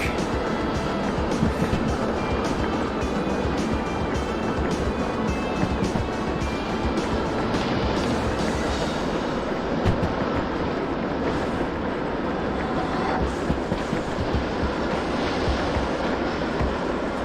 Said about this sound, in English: Hate to be headed down this hill with no train brake.